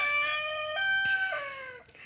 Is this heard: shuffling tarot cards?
no